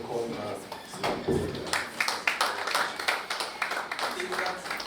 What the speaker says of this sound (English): I think that applause is not good enough.